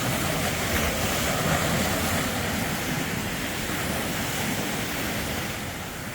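Ocean waves wash steadily onto a beach in Mexico, a continuous broad roar of surf mixed with wind buffeting the microphone, holding even in loudness for the whole stretch and easing slightly at the end.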